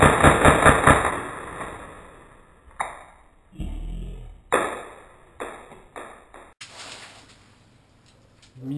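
A Tokyo Marui Hi-Capa 4.3 airsoft pistol fires a fast full-auto burst of close, sharp rattling shots in the first second. Scattered metallic clicks and light handling knocks follow.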